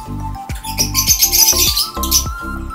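Opaline personata lovebirds chirp up close in short, shrill bursts that overlap in quick, uneven succession. Several sharp, tonal calls stand out loudly among the chatter.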